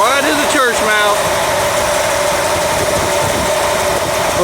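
A car engine idles steadily after its number 4 cylinder lifters were replaced and the timing set at 10 degrees, running smooth and even throughout, with a voice speaking over the start.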